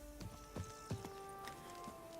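A few hollow horse-hoof clip-clops in The Witcher 3: Blood and Wine at an uneven walking pace over a steady synthetic tonal hum, fairly quiet and close.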